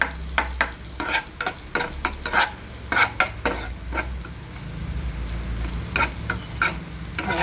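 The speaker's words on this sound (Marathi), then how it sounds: "बटर पूर्ण वितळत आहे" Butter melting and sizzling in a pan for pav bhaji, a steady frying hiss with repeated sharp scrapes and clinks of a spoon stirring, close and continuous.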